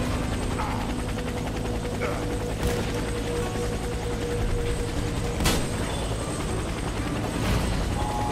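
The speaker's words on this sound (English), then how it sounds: "helicopter for extraction" A helicopter in the video game Warface arrives for extraction, a loud steady mechanical rotor clatter with occasional sharp transient clicks.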